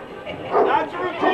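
A dog barks at baseball fans during a men's amateur league game at Lyon Mountain, giving short yips and bow-wows mixed closely with a commentator's voice and crowd noise.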